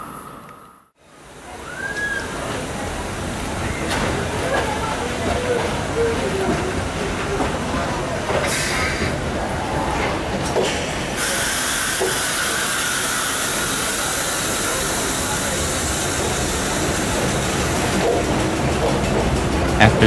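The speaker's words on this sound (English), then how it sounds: "Only a few minutes later, our Metro North train arrived," A Metro-North commuter train riding toward New York City gives a steady, loud rumble and hiss of the car in motion, with faint clicking of the rails, continuous for about twenty seconds after a brief quiet start.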